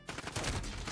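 Dense burst of video game gunfire from Call of Duty: Modern Warfare in Gun Game mode, loud and continuous shots overlapping for under a second with no speech.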